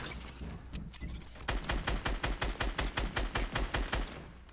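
Video game gunfire, a rapid run of about fifteen evenly spaced gunshots at moderate loudness after a brief softer stretch, no talk over it.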